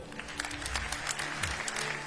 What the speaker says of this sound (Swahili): youth, mujipigie makofi